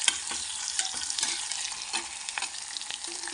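A homemade masala of onion, garlic and ginger sautés in a pan with a steady close sizzle and hiss, broken by soft scraping stirs and small clicks, without any talk.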